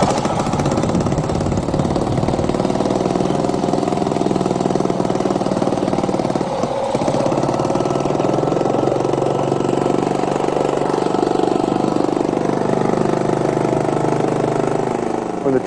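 Engine idling steadily with exhaust rumbling from the tailpipe, a loud, constant close drone with a brief dip midway and no talking.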